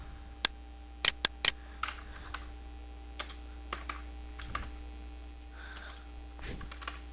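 Keys tapped on a computer keyboard while entering a folder name, sparse clicks and short bursts under a steady mains hum, fairly quiet and close.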